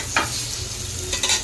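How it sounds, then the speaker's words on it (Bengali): Slices of pointed gourd (potol) sizzle in hot oil in a pan as they are stirred and flipped, a steady close frying hiss broken by a couple of brief scraping turns. "পিঠটা ভাজা হয়ে গেল, এবারে পটল ভাজাগুলো উল্টে দেব"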